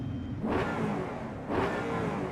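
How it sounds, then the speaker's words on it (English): A Ford Coyote V8 induction roar in Project Motor Racing rises twice in quick surges, a steady mid-pitched engine drone swelling with each blip of the throttle. "I love the induction sound, man. That is a coyote sound through and through."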